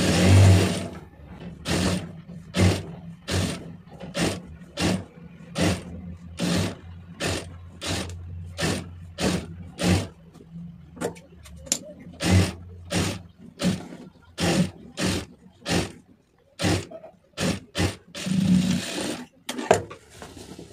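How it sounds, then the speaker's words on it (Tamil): A sewing machine stitches a blouse lining in a series of short, rhythmic bursts of needle chatter, roughly one per second, repeated steadily for about twenty seconds and heard up close. "திருப்பிட்டு கரெக்டாக அந்த ஒட்டில் ஒரு தையல் போட்டுருங்க"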